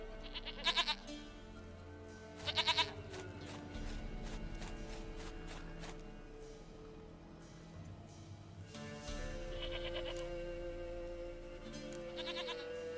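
A goat in The Witcher 3 game bleats in short bursts twice near the start and once near the end, over a low steady in-game ambient hum and faint movement.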